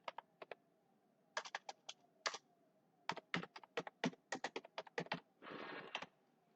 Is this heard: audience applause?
no